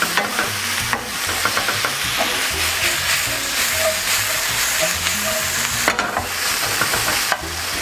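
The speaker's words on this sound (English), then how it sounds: "You want to just lightly saute that for about 30 seconds." Garlic sautés in a pan for a butter chicken base, a loud continuous sizzle broken by frequent scraping and tossing clatter, close and with no voices.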